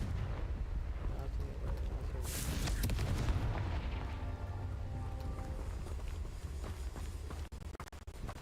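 A Confringo fire-blast spell explodes in Hogwarts Legacy, a bright burst around the middle of a dense, rumbling game soundscape with low booming and crackle continuing behind it.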